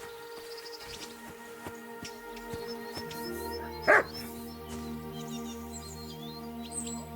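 A dog in the medieval game Kingdom Come Deliverance 2 gives one sharp, loud nearby bark over soft birdsong and a low, sustained ambient music bed.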